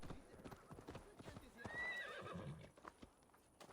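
Horse hooves clopping in a steady rhythm with a loud whinny midway, from the game Assassin's Creed Valhalla, heard faintly beneath someone talking.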